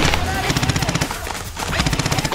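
Rapid automatic gunfire from a shooting video game, dense rattling bursts close and loud with a brief lull midway, while voices shout over the shots.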